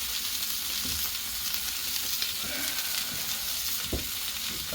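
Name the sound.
burgers sizzling on a Blackstone griddle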